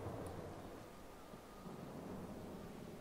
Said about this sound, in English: Is it supposed to storm or something?